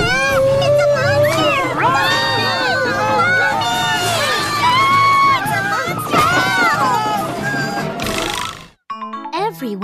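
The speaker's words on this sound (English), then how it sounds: "Everyone screams and runs." A crowd at a party in a children's princess story breaks into frantic screams and shouts while people run off, many overlapping voices squealing together and loud, before cutting away at the end.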